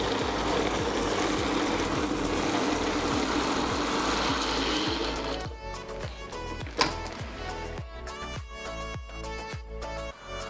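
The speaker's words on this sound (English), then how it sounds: "Now I will grind them to a powder." A mixer grinder runs loud and steady, grinding curry leaves and spices to a powder for chicken rasam, then stops midway, leaving quieter clattering kitchen sounds and a sharp knock.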